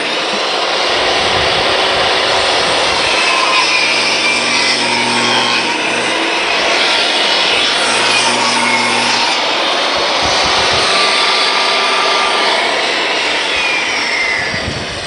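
A table saw cuts through wood with a loud, steady roaring whine that fills the whole stretch without letting up. A low hum runs underneath and no one speaks.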